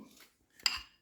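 A spoon clinks against a dish as sauce is drizzled over a fish fillet in a kitchen: a soft scrape followed by one sharp, bright metallic clink that rings briefly, fairly quiet and close.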